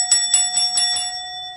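A bell struck five times in steady rhythm on a morning radio talk show, each ring bright and clear with a sustained ringing tone beneath, followed by a short fading decay.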